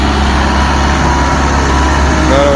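A tractor engine runs loudly and steadily at a tractor stunt event in Dadyal, Azad Kashmir, a deep close drone with a constant throb throughout.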